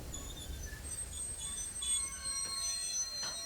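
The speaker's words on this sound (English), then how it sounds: "Whoa, I think the train is coming to a stop." A train slowing to a halt, with steady rumbling and high, thin wheel squeals drifting over the rails for several seconds at moderate loudness.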